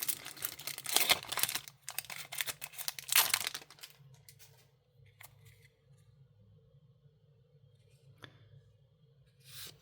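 Magic: The Gathering booster packs being opened, with crinkly foil wrappers torn and scrunched close by for a few seconds, then quieter shuffling and faint handling.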